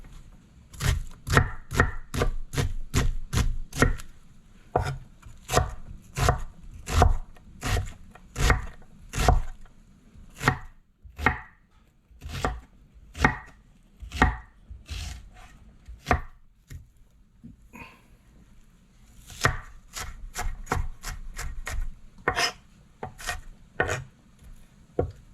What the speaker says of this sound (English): we'll chop this onion.